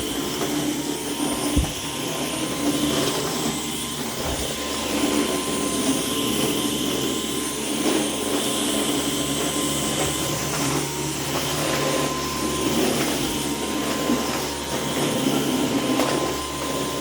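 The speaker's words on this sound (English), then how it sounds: "Now I have to vacuum some of the messes in here in the house." A Dyson vacuum cleaner runs indoors in a house, giving a steady, loud whirring drone that holds evenly throughout with only small dips and a few low thumps.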